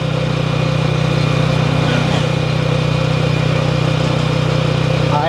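A motorcycle engine idles steadily with a constant low rumble and hum throughout.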